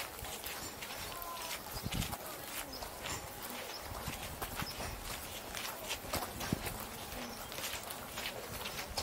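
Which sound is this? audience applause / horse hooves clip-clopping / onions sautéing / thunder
horse hooves clip-clopping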